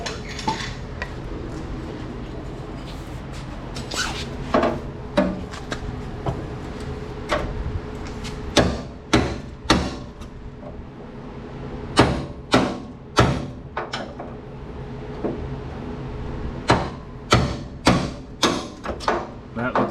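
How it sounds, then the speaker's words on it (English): Metal bangs from a sledgehammer pounding on the body of a 1967 Mustang convertible during teardown, a run of sharp irregular impacts that grows more frequent toward the end, with some talk in the background. "I got a sledge here. That'll work."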